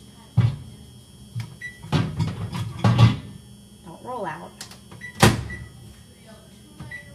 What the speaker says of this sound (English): Put it in the microwave for 8 minutes.